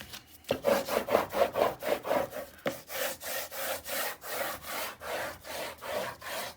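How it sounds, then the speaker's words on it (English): Paper being burnished onto chipboard for a mini album, a steady rhythmic scraping rub repeated about a dozen times, close and fairly quiet with no talking. "Sorry if this makes noise, but I got a burnish, so make sure that I don't have any air pockets in there."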